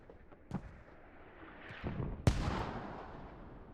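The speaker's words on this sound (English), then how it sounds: "Mortar lands, and I want to say that was a Tac Trig mortar that was a little bit off target." Mortar shell landing in the game Squad, slightly off target: a sharp close boom followed by a rumbling tail, with earlier faint distant thuds and gunfire in the background.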